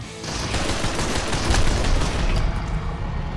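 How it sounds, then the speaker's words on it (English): Pistol gunfire in the PS5 VR shooter Crossfire Sierra Squad, a dense run of sharp overlapping shots and booms that keeps up loudly for the whole few seconds with no talk over it. "I'm going to pistol these guys because I can't snipe in this game."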